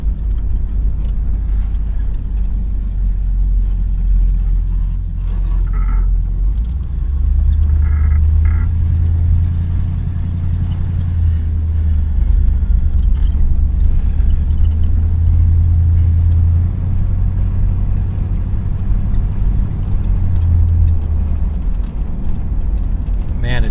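A 1973 Chrysler Town & Country station wagon cruises along, its engine and road noise forming a steady low rumble heard from inside the cabin, with a person talking over it.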